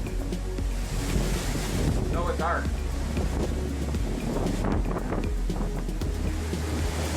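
Heavy storm waves and gusting wind surround a tanker at sea, a steady roaring wash of surf and wind buffeting the microphone throughout, with a brief voice speaking over it.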